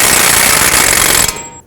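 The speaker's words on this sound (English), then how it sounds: "You'll see me bottom it out with an air gun" An air impact gun hammers an axle nut on a 2006-2011 Chevrolet HHR front wheel hub, a loud, rapid continuous rattle that runs close up and then cuts off abruptly, leaving a faint hiss.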